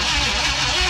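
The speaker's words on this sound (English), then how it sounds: "just gonna let it idle" A 1969 or 1971 Ford F100 pickup engine, long abandoned and newly started, idles in a steady, noisy drone throughout, close by with no voices.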